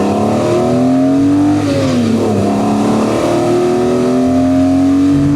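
A BMW E46 M3 Touring with a manual gearbox revs hard and accelerates, its engine note climbing, dipping briefly with a gear change, then rising again. The car is loud and close.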